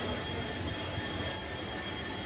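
The Madurai–Punalur train stands at a station platform, a steady broadband rumble and hiss of railway noise with no talk, fairly distant and even throughout.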